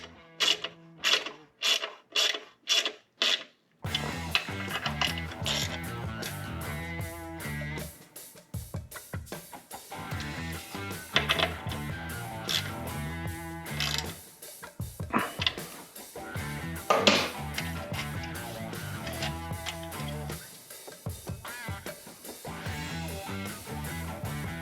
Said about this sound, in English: So once you get the bolts installed, you're just going to snug them up.